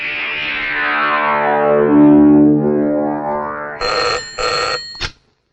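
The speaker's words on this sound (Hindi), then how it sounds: "जा जल्दी शीला के बाप को फोन कर दे" A telephone bell rings loudly under a swelling orchestral music score, then two short distinct ring bursts sound alone near the end.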